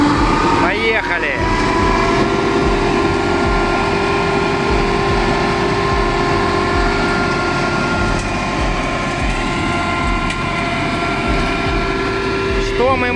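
A Toscano mulcher, 2.40 m wide and mounted on a Zoomlion RS-130 Pro tractor, cuts grass with a steady, loud, droning engine-and-rotor roar that holds for the whole stretch, and someone talks over it.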